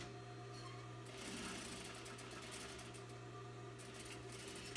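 A sewing machine stitches a long seam down knit fabric, giving a steady, even mechanical whir with a constant low hum and a faintly rhythmic needle chatter. It is quiet and close, with no voices.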